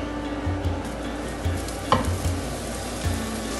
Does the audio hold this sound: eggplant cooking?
yes